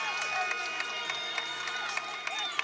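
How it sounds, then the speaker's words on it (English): A gymnastics meet crowd cheers and claps during floor routines, a dense, steady roar of voices dotted with sharp claps and shouts throughout. "We have lots of cheering."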